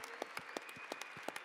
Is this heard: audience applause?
yes